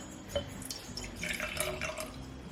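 Water is poured into a jar of sourdough starter in a home kitchen, giving short splashing trickles and drips with light clinks of glass, close and moderately loud.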